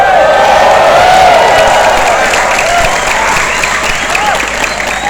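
A large crowd at a religious sholawat gathering in Pekalongan marking Indonesian Independence Day cheers and applauds loudly, with whoops and shouting rising over a continuous roar that eases slightly toward the end.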